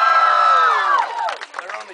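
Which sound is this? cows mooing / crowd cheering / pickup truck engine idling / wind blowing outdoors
crowd cheering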